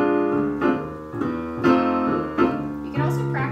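Swinging piano chords comp in a Charleston rhythm over a 12-bar blues, struck in short repeated accented pairs, close and moderately loud with no talking.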